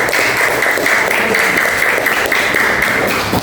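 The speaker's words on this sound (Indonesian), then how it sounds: "Tepuk tangan buat kelompok 1" A classroom full of students gives a student group a burst of dense clapping that holds steady for a few seconds, with faint voices mixed in.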